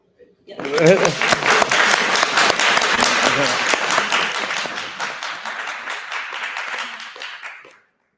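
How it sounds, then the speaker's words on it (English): An audience at a personal branding talk breaks into applause, rising quickly to a full, sustained round of clapping that gradually tapers and stops, with a voice briefly audible at the start. "can we get a round of applause?"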